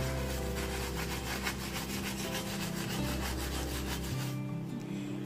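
A pan handle is scrubbed clean with steady, rhythmic back-and-forth strokes, loud and close, with no voices, until the rubbing stops abruptly near the end.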